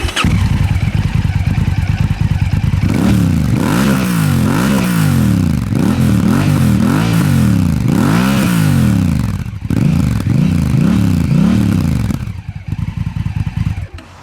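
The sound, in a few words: motorcycle exhaust revving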